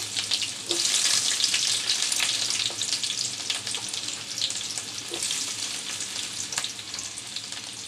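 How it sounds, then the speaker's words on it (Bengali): Finely chopped onions frying in a little oil in a pan, a steady close sizzle with occasional crackles and soft stirring scrapes, no voices. "অল্প পরিমাণে তেল দিয়ে দিলাম দিচ্ছি পেঁয়াজ কুচি"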